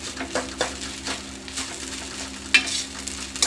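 Crushed corn roasting in a pan as its moisture cooks off, with a soft steady sizzle and repeated stirring scrapes at an even pace, plus a couple of sharper knocks near the end; no speech.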